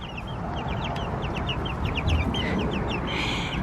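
Young brown leghorn and silver leghorn chickens give a run of quick, soft clucks and chirps over a steady outdoor background hiss, moderately close and fairly quiet, with no talking.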